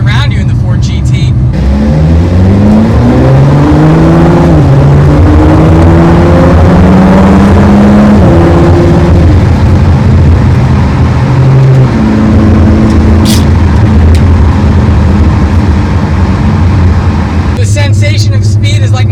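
Engine of a 2019 Ford GT revving as the car accelerates hard, rising pitch climbing through several gear-like steps, loud and close from inside the car, with someone talking over it.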